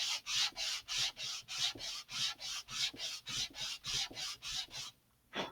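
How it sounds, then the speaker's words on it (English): Burrs being sanded off a fin of an Estes Great Goblin model rocket, a close, steady series of about fourteen even back-and-forth rasping strokes that stop near the end. "I am only going to sand the burrs off of this particular face for the time being"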